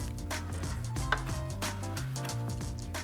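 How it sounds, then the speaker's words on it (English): Fresh rosemary sprigs being chopped with a knife on a board for vegan olive bread: quick, steady, close-up blade taps in an even rhythm, with no talking. "and finally chop our rosemary."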